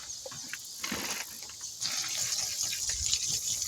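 Water pours and gushes steadily into a partly filled carport support post hole to soak the soil, a close, continuous splashing rush that grows fuller partway through, with no talking.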